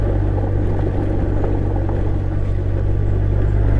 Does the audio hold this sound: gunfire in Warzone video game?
no